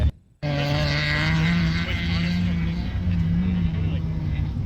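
A rally car's loud, steady engine drone with a sustained high whine, holding near constant revs for several seconds after a brief quiet start, at a rallycross event.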